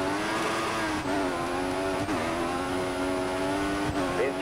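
A Formula 1 race car in the F1 2014 video game, its engine at full power at night in Bahrain, screaming at high pitch in a loud continuous drone with brief dips at each gear change.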